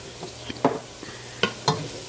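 Cayenne, cardamom, cinnamon and cloves are stirred into a frying pan, with several distinct scraping strokes of a utensil over a soft, steady sizzle, heard close with no talking.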